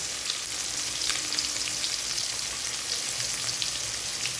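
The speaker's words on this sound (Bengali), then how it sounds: "সর্ষের তেলেই ভাজছি।" Fish pieces rubbed with salt and turmeric fry in mustard oil, giving a steady, close, broadband sizzle that crackles and spits throughout with no one speaking.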